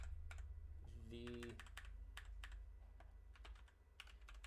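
Quick bursts of computer keyboard typing come in scattered clicks and short runs while someone switches team titles in Madden 23, with a brief tonal game or notification sound partway through and a single spoken word.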